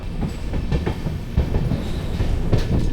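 A train climbs a mountain ghat on rails, giving a steady rumbling roll with repeated clickety-clack wheel beats close by throughout.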